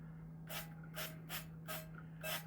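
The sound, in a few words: spraying oil onto an air fryer pan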